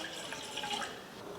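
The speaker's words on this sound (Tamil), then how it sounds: "ஒரு அரை டம்ளர் தண்ணி சேர்த்துக்கிறேன்." Water runs quietly into a pan for melting jaggery in a home kitchen, a faint, steady trickling and splashing that lasts only a moment.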